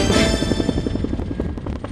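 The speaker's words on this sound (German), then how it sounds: "dieser Hubschrauber hier wird im Landkreis, wie jeder andere Hubschrauber auch, einerseits als primäres Rettungsmittel eingesetzt" A rescue helicopter in flight makes a steady, loud rotor thumping with a rapid, even beat and a whining engine tone throughout.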